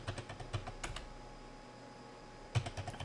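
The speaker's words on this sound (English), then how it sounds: "If I could type it correctly" Keys clatter on a computer keyboard in quick, irregular bursts, then pause and resume. The clicks are close but fairly quiet, with no talk over them.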